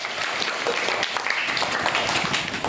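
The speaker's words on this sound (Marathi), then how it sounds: "या दादासाठी सगळ्यांनी टाळ्या वाजवा" Schoolchildren applauding a classmate at a primary school quiz, a dense, lively burst of many small hands clapping close by with some voices mixed in.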